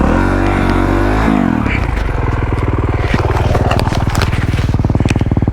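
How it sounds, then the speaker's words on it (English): Dirt bike engine running loud and close, a rough low rattle that idles then settles into a fast steady pulse, with people talking over it. "I love riding a dirt bike practically one-handed"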